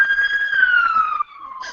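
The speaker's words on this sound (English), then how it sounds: "as fire sirens blast through my window." A loud fire engine siren wails close by outside a window, its tone gliding slowly downward before fading under a brief burst of noise.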